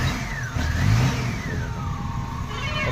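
A Maruti Omni's engine runs steadily after a morning start, a close mid-pitched hum with a slight rise in revs and no voices.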